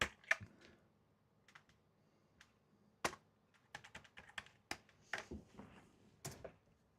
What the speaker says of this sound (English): keyboard's now working.